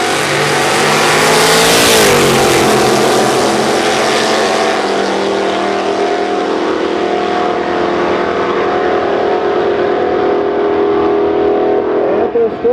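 A Henry J nitrous street car roars hard down a drag strip, its engine note loud and sustained, rising and shifting over about thirteen seconds with crowd and track noise beneath.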